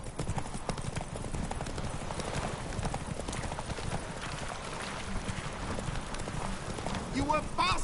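Horse hooves clip-clop at a gallop in The Witcher 3 video game, a continuous rhythmic pounding with a horse snort or neigh near the end, mixed with other game sounds.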